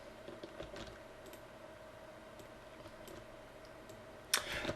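A name is typed on a computer keyboard: a rapid, close run of light key clicks over steady room hum, ending in a louder cluster of taps.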